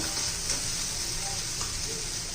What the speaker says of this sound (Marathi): आपण हा मसाला परतून चांगला परतून घेतला ना तितकी भाजीला चव येते